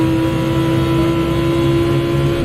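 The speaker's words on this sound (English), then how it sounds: "I think this really shows how fast that car accelerates right here." A race car in Gran Turismo holds a loud, steady engine drone close up, one strong sustained tone with no clear rise, without talk.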